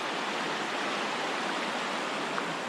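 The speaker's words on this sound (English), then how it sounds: "There's Big Creek." Big Creek, a forest stream in Olympic National Forest, Washington, flows in a steady, broadband rush of water, close and continuous with no voices.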